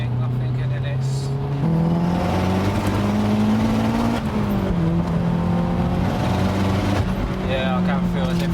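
Tuned Mazda 3 MPS hatchback, a 535 bhp build, accelerating hard from inside the cabin, its engine note climbing loud and steady through several gear changes with a continuous strained drone.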